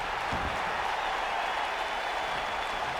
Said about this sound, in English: you hear the London faithful here in the UK, some cheering for Kevin Owens, some cheering for Sami Zayn